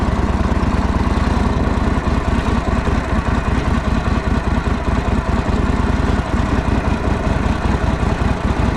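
A 1949 Harley-Davidson WL Flathead barn-find motorcycle engine running hard as the bike peels out, a loud continuous low chugging rumble with dense rapid firing pulses, close and unbroken, with no voices.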